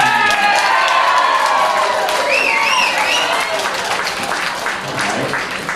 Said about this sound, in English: It's got more applause.